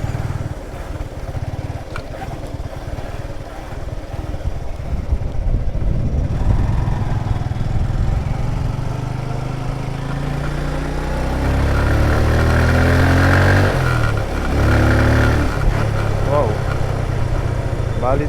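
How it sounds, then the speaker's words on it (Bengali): A motorcycle engine drones and revs steadily throughout, rising in pitch as it rides on beach sand on St. Martin's Island, Bangladesh, with people talking over the noise. "এই সমুদ্র তীরে বালিতে বাইক চালাচ্ছে"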